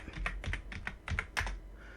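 Quick keystrokes on a computer keyboard, about seven or eight crisp clicks in an uneven rhythm, close and moderately quiet, alone with no talking.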